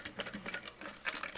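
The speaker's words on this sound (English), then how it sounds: "Top stitch this on." A sewing machine topstitches a leather bag, a quick, close, rhythmic run of needle ticks in a short burst.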